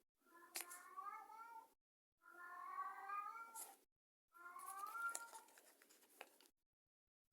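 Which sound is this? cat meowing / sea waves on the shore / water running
cat meowing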